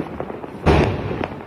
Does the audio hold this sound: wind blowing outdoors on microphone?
no